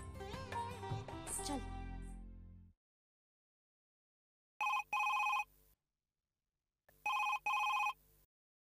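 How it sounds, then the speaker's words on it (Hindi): Two bursts of an old-style telephone bell ring loudly and close in a quiet room, each double ring lasting about a second, following a stretch of background music and voices from a Hindi TV drama. "सलिल, आपने अभी फोन क्यों किया?"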